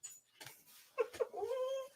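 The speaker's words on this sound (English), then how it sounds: "everyone loves hearing you bark" A pet dog whimpers and gives a few soft yips indoors, asking to be let outside, ending in a drawn-out whine; faint and close with no talking.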